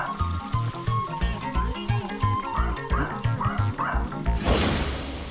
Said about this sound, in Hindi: बस ऐसे ही भौंकता रहता है